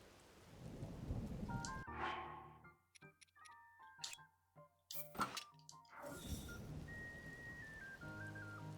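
A thunderstorm in Zelda: Tears of the Kingdom brings steady rain with sharp thunder cracks, and bright game chimes and tones sound between the rumbles.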